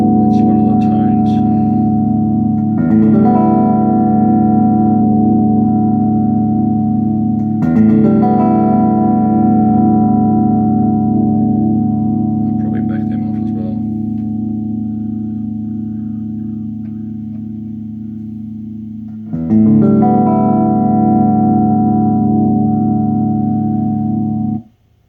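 Sustained bass guitar notes ring through a small 15-watt Ashdown-style BA15 practice amp, a few plucked and left to decay slowly, with a slight buzzy edge and no talking.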